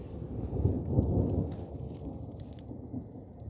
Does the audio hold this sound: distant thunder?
yes